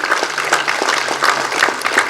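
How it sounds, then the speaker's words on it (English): A room full of people clapping, dense and lively, with sharp individual claps popping through the steady roar. "Doesn't this call for a big round of applause"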